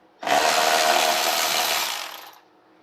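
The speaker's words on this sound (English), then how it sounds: "So now we are going to remove the two 10mm bolts that's holding the splash shield in place" A power tool, likely a ratchet or impact tool, removing 10mm bolts from the splash shield of a 2009 Pontiac during lower control arm work. It makes one loud, close, continuous whir of about two seconds that tapers off.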